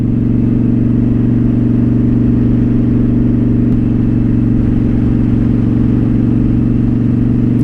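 Loud, constant, low exhaust rumble from a Honda Shadow Spirit motorcycle with an aftermarket Cobra exhaust, heard close and steady throughout.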